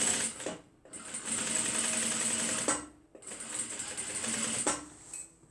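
A sewing machine stitches a tote bag in two long, steady runs of rapid mechanical whirring, stopping briefly in between, close and clear with no talking.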